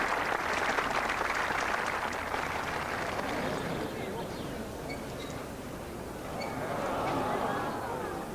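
A large golf gallery applauds around the 18th green during the final round of the 1986 Dunhill British Masters at Woburn, a dense, sustained roar of clapping and crowd noise that swells again near the end.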